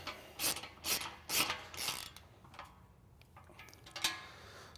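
A ratchet with a 17mm 3/8-drive socket tightens the winch mounting bolts on a Polaris Ranger XP 900, giving several close bursts of rapid clicking, then quieter intermittent ticks.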